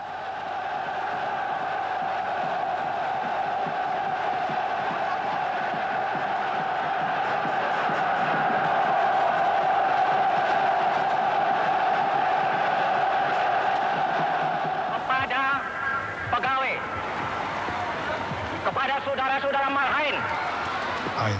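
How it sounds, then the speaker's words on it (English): Vast crowds in Indonesia cheering Sukarno, a sustained roar of many voices rising and swelling, with a narrator talking over the noise in the latter part. "The next day, mobbed by cheering crowds, Sukarno drove to the Governor General's palace."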